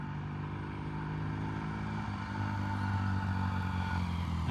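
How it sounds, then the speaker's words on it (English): A 1978 Triumph motorcycle with a rattling muffler approaches from a distance, its low, humming engine tone growing gradually louder and firmer, with faint clattery texture and no voices. "And I can hear that muffler rattling."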